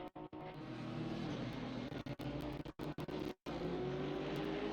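A Porsche race car at Imola in a racing video game, its engine a continuous loud drone with a few sharp dropouts.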